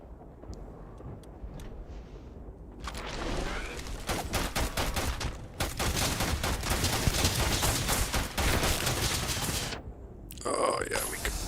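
Rapid video-game gunfire from Stalker 2, dense automatic bursts rattling for several seconds with brief pauses and a short gap near the end, loud and close, with a voice talking underneath.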